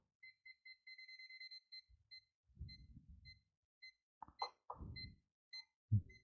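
A WinApex ET8101 digital multimeter's NCV sensor, held near a cable, gives a series of faint, high, evenly pulsed beeps that come in bursts and stop and start. Low handling knocks and bumps come in between.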